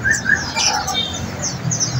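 Togontong birds in a crowded bird shop, several short bright chirps and tweets repeating over a low background murmur, close and fairly loud.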